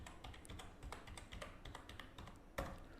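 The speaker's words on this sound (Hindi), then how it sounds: "जैसे अभी मैं कीबोर्ड पे टाइप कर रहा हूँ" Soft, rapid tapping on a computer keyboard, an irregular stream of quiet close key clicks with one slightly louder press near the end.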